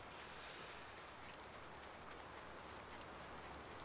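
Steady rain pours down in Farming Simulator 19, a dense, even hiss of drops on surfaces that holds at the same level throughout with no voices over it.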